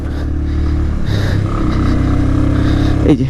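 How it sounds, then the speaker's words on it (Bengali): A motorcycle engine drones loudly and strains under load riding uphill on a steep mountain road in Bandarban, its pitch rising and falling as it labors, with a brief clatter near the end. "হয়তো বাইকের সাউন্ড শুনলে বোঝা যাবে যে"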